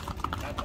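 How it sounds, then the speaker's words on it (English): Horses' hooves clip-clop through a town street in Vilcabamba, in the Ecuadorian Andes, a short run of brisk, fairly close hoofbeats with voices murmuring underneath. "seeing horses go through town"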